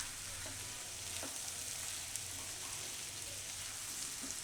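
Sprouted fenugreek and potato curry cooks in a pan over medium heat, giving off a faint, steady sizzle with a soft hiss and a few light crackles, and no one speaks.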